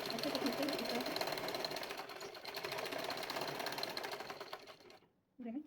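Sewing machine running steadily while stitching pant fabric, a dense continuous whirring hum with rapid needle ticking, cutting out briefly near the end before starting again.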